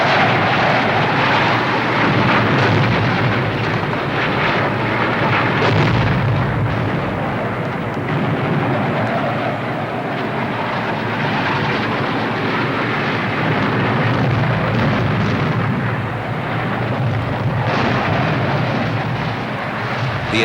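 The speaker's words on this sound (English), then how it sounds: "Japanese bombers were flying toward what Franklin Delano Roosevelt would call the Day of Infamy" Japanese bomber aircraft fly toward Pearl Harbor: a loud, continuous engine roar with rumbling low drone and rough, dense noise that holds steady for the whole stretch.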